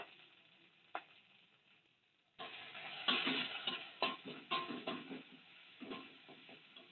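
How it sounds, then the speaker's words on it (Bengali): Spice paste of chilli and onion with turmeric powder frying in oil for a home-style vegetable curry, a steady sizzle with stirring scrapes and a few clinks, growing louder after a quiet start. "এবার ভালো করে মশলাটাকে কষিয়ে নেব এরপর দিয়ে দিচ্ছি হলুদ গুঁড়ো"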